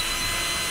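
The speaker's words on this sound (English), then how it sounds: "Just use a drill from the house and put a thing on it" A household power drill fitted with a stirring attachment whirs steadily while mixing simple syrup on a stovetop, a continuous close buzzing whine with no pauses and no voices.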